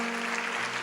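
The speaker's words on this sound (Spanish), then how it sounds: "Este aplauso es para ustedes por la buena decisión que han tomado" A church congregation applauds people who have just made a prayer of faith, a steady wash of clapping under a low sustained tone, likely from the sound system, with no break across the short burst.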